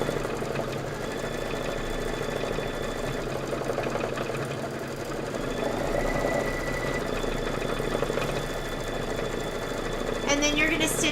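Embroidery sewing machine stitching with white thread, a steady mechanical whirring hum that runs throughout, with speech over it.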